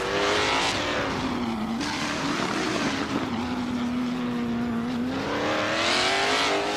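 Race cars in a video game speed past with a continuous high engine whine, pitch sliding and shifting as they accelerate, loud and close, with no talk over it.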